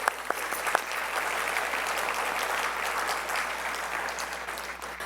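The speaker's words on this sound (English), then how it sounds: "A big round of applause." An audience at a Bharatanatyam arangetram dance debut claps in a steady, full round of applause, loud and even, with a few sharper claps at the start and no talking.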